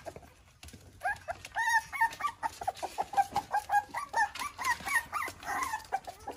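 Abandoned newborn puppies whine and squeal in high, rapid, overlapping cries while being fed, close and continuous, with soft rustling underneath.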